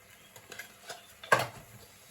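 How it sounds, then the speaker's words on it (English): A spoon stirs bulgur stir fry in an uncovered pot, making soft scraping strokes with one louder scrape near the end, close and quiet, with no voices. "So I'm going to just keep stirring my bulgur here now"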